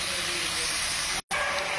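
Hopa bhaja with chopped coconut frying in a pan, a steady close hiss that cuts out for a split second and then resumes.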